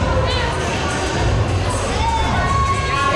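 A wrestling arena crowd cheers and shouts in a dense, continuous roar over the full stretch, with voices mixed in throughout.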